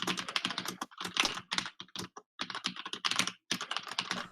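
Rapid typing on a computer keyboard at a home PC, dense bursts of clicking keystrokes with brief pauses between runs, close and fairly loud with no talking.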